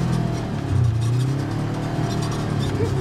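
A 2015 Polaris RZR S 900 side-by-side drives with a steady mid-pitched engine drone that swells slightly as it pulls through a corner, close and continuous, with no talking.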